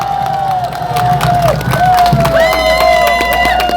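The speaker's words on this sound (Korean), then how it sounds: "우리 김영국 씨에게 다시 한번 뜨거운 박수 부탁드리겠습니다" A crowd at a presidential campaign rally in Gongju, South Korea, cheers and shouts, with high whooping voices and tonal calls rising over a dense roar, loud and close, brief claps mixed in.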